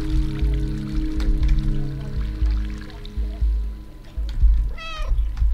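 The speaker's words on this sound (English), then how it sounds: "Meow meow." A cat in the video game Stray gives a single short, rising meow near the end, heard over soft ambient game sound with faint trickling water.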